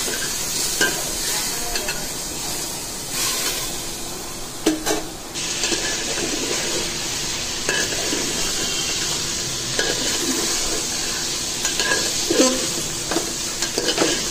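Chicken frying and being stirred in a pan while cooking chicken yakhni pulao, with a steady close sizzle broken by repeated scraping stirs of a utensil, and no talking.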